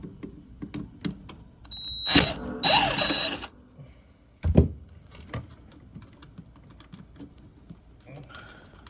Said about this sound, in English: And then you take your screwdriver, loosen that up.